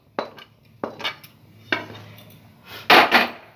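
A spoon knocks and scrapes against a bowl while coffee cake batter with caramel is stirred by hand: a few separate, sharp clinks spaced apart, then a louder cluster of clatters at the end, close and with no talking.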